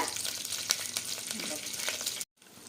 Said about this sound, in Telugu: ఆయిల్ వేసుకున్నాం కదండి, పోపు దినుసులు వేసుకోవాలి.